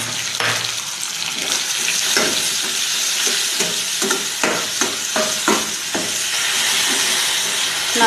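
Green chillies, tempering spices and onions fry in a pan with a steady, close sizzle and hiss. Repeated scraping stirs punctuate it, and no one speaks.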